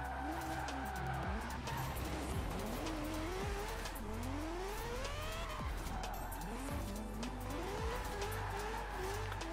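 A rotary-engined Mazda Miata slides with its tires squealing in long rising and falling wails over a steady engine drone, the squeal repeating several times at close range.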